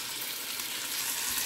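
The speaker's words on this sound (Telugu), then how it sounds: "కరివేపాకు కూడా వేసేద్దాం." Curry leaves sizzle in hot oil in a pan while a simple breakfast chutney is made, an even, close frying hiss with no voices.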